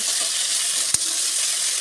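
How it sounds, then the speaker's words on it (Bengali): Potatoes fry in a home kitchen pan with a steady, close sizzle and one brief clink partway through, no voices over it. "ভাজা চলছে"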